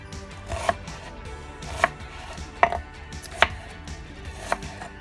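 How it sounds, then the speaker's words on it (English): A kitchen knife chops a vegetable on a cutting board while cornbread and beanies and weenies are being made. There are five distinct, sharp knocks at uneven intervals, close and fairly quiet, with no talking. "Alright, so I'm going to chop this one up for the other pan."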